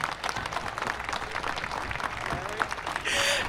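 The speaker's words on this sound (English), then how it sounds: "Let's give him a round of applause." A crowd at a Relay For Life closing ceremony gives a round of applause, with sustained, fairly distant clapping and a rise in crowd noise toward the end.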